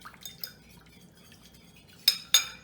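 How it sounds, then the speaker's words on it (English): A whisk clinking against a bowl as a toasted sesame oil dressing is mixed, with soft metallic taps followed by two louder, sharp clinks near the end, and no talking. "You want to make sure that you get the toasted sesame oil. And you're just going to whisk that together."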